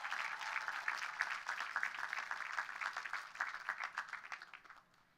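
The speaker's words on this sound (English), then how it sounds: "please give a round of applause for the foundation and its donors" A graduation crowd claps for a foundation and its donors, a soft, somewhat distant round of applause with individual claps audible, fading out near the end.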